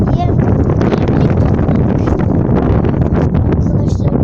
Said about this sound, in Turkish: Arkadaşlar rüzgar çıktı.